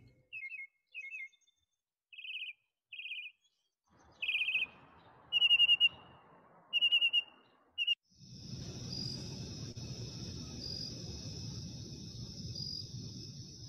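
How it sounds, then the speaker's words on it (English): A mockingbird sings a run of short, high, repeated chirping phrases, fairly faint and spaced out, followed by a steady wash of hiss that sounds like insects or background noise, with no talking. "Mockingbird."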